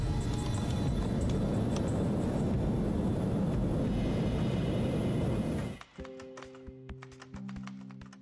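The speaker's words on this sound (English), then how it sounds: "Reverse thrust!" Boeing 727 jet engines roaring loudly in reverse thrust for several seconds, then cutting off abruptly, leaving quiet taps and clicks.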